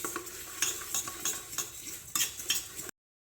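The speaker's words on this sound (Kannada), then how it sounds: "ರುಚಿಗೆ ತಕ್ಕಷ್ಟು ಉಪ್ಪು ಮತ್ತು ಖಾರದ ಪುಡಿ ಹಾಕಿ ಚೆನ್ನಾಗಿ ಮಿಕ್ಸ್ ಮಾಡ್ಕೊಳ್ಳಿ" Puffed rice being stirred with coconut oil, salt and chili powder in a bowl, a series of close scraping and rustling strokes with a few sharper clinks of the utensil, lasting a few seconds before stopping.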